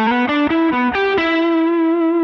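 A distorted electric guitar plays a quick run of notes, including a rapid trill, then holds a long sustained note.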